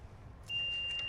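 Car alarm sounding after an old, dried-out battery is reconnected: a thin steady electronic tone switches on partway through over a low background rumble, faint and with no voices.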